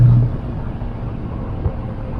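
A Porsche 911SC engine idles stuck at a raised 1800 rpm, a steady low rumble that stays close and constant, with no speech.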